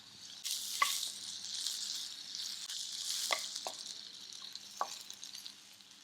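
Cut cucumber with asafoetida sautéing in a pan makes a soft, steady sizzle, broken by a few sharp clinks and scrapes of stirring, close but fairly quiet.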